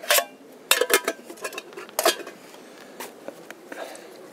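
A metal camping canteen and its lid are handled, giving a quick run of bright clinks and clanks, some close and sharp, others lighter taps, with brief pauses between them and no talking.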